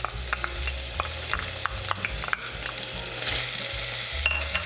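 Onion and garlic fry in a pan with a continuous close sizzle, punctuated by sharp clicks and scrapes of a spoon stirring, the crackle swelling brighter toward the end.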